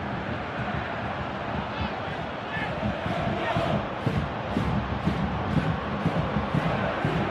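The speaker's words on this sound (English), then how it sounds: "Crowd calling for him to shoot." A packed football stadium in PES 2018 roars as a sustained crowd chant calls for a shot, swelling into rhythmic, pulsing surges toward the end.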